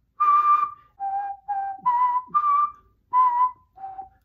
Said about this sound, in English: try to whistle each one of them separately